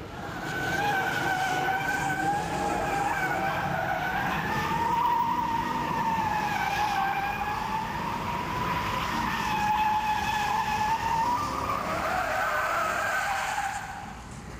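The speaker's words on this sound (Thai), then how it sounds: "อารมณ์เผายางนะคุณผู้ชมครับ" Tires of a car doing a burnout shriek in a long, steady, loud skid for about fourteen seconds, the pitch wavering slightly as the rubber spins, with engine noise underneath and no talking.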